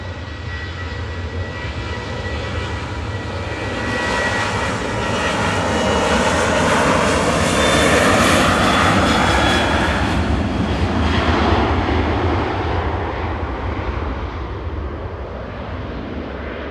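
A Ryanair airliner on flight 191 departs for Belfast, its jet engines rising to a loud, broad roar that peaks in the middle and then fades slightly, with a faint whine sweeping through, heard without talk.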